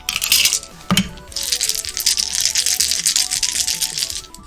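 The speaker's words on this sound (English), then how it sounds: "Shake some dice, all the D&D people run up." Dice rattle and clatter in a hand or cup, a loud close burst followed by a sustained jangling shake, alone without any voices.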